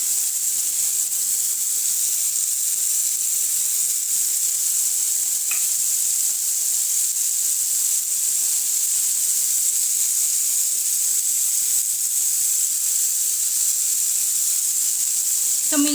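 Bombil fish frying in a pan of hot oil, a dense, even sizzling hiss that holds steady and loud throughout, close by with no pauses.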